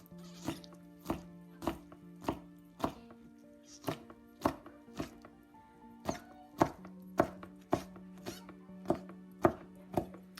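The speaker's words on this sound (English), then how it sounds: "Now we slice it very thin." Knife slicing pork very thin on a board, crisp regular chopping strokes about twice a second, close and clear, with steady hum in the background and no talk.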